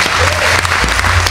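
A brief burst of clapping from a crowd, dense and continuous, fairly close, with no talking over it.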